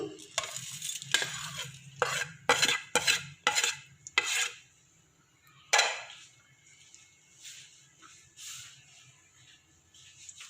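Spices are mixed into mutton with yogurt for biryani, a series of close, loud scraping and clattering strokes of a spoon against a metal pot, then quieter stirring sounds.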